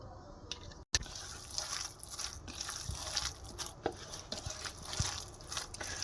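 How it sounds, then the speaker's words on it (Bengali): Soy sauce and chili sauce pour into a bowl while soybean chunks are cooked, giving soft wet drips and splashes over a low background hum, with a sharp clack near the start. "একটু দেবো সোয়া সস, চিলি সস প্রথমে একটু দিয়ে দিই অল্প করে"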